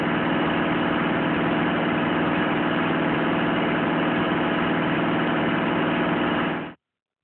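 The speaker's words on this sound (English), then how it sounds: "Run the engine at high idle and record the gauge readings" A common rail diesel engine runs at high idle, giving a steady, even droning rumble with no change in pitch, which stops abruptly near the end.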